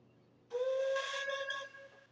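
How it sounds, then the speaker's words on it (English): Locomotive steam whistle from an engine once painted in grey livery, a single loud, steady chordal blast that starts abruptly, holds for about a second, then drops to a softer tail before cutting off. "Here's this whistle"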